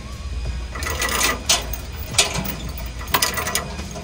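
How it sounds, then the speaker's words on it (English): Metal safety chains clink and rattle as they are wrapped and secured around a Jeep Wrangler frame on a U-Haul auto transport trailer, with a series of sharp close links and scrapes under a steady outdoor background. "Next, we want to secure these safety chains."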